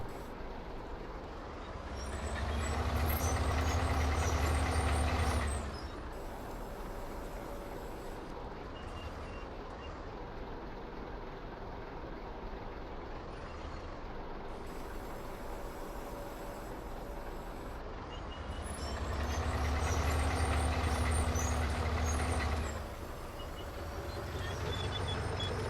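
A farm vehicle engine in Farming Simulator 19, a steady low rumble that swells into a louder, heavier drone twice as it drives backwards, no talk.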